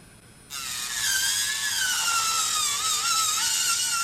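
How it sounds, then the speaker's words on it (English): An electric nail drill shaping polygel nails starts up abruptly and settles into a steady, high-pitched whine, whose pitch dips slightly as the bit presses against the nail, running close and alone with no talking. "I am so loving this drill."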